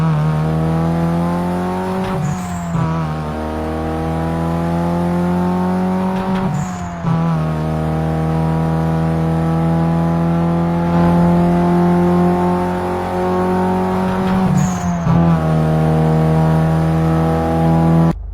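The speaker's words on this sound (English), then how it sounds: "Sound of engine. Volkswagen Golf GTI. Need for Speed Most Wanted." A Volkswagen Golf GTI engine in the racing game Need for Speed Most Wanted revs loudly and climbs through the gears, with three brief shift breaks before the drone rises again.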